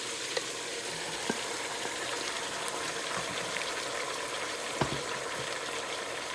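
Tomatoes sizzle in hot oil for biryani, a steady, dense crackling hiss with occasional small pops, fairly quiet and continuous throughout.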